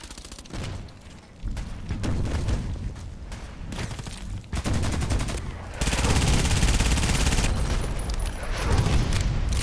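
Rapid gunfire in the ADXsniper tank video game, dense bursts of machine-gun shots and blasts running almost continuously, loud and close, growing thicker toward the end with no one talking.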